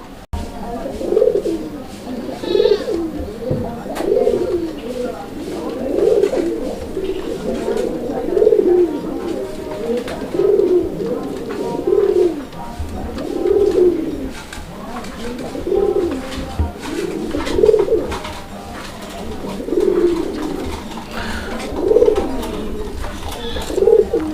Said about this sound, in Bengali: এই কবুতরটা মাশাল্লাহ প্রচুর পরিমাণে ডাকাডাকি করে